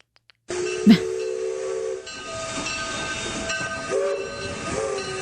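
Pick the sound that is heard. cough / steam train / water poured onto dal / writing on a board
steam train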